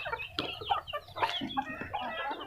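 Local village hens cluck continuously in a short, busy burst, several birds close by calling over one another.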